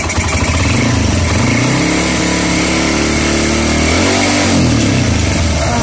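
Motorcycle engine being fired up for a test of a converted full-wave 12V charging system, running loud and close throughout with revs rising and falling in a long sweep before climbing again.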